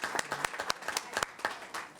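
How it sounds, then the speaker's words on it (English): Audience applause at a school board of trustees meeting, honoring the Choraliers choir after a Christmas performance: scattered, fairly faint individual claps with uneven spacing, thinning rather than forming a dense roar. "Another round of applause for the Choraliers."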